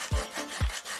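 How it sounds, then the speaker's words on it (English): A wooden skewer scrapes through a painted surface to etch a message, two short close rasping strokes about half a second apart, faint, with no voices. "I'll use a wooden skewer to etch a message on the paint. The skewer will scrape it off."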